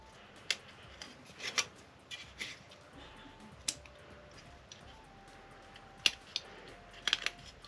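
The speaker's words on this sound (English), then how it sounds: "use my scalpel just to trim any flash or where we've just cut them off the sprues" A scalpel trims flash off plastic model kit parts from a Revell Mandalorian set: faint, close, irregular ticks and small scraping clicks scattered over a quiet background.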